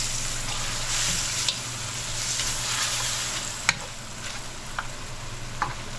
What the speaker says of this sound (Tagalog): Halu-haluin.